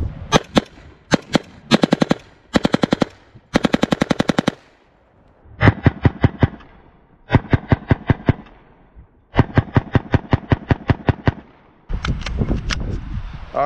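A UMP submachine gun in .45 ACP fires on full auto in a series of loud, close bursts of rapid cracks, each burst a few shots long and separated by short pauses, with no talking.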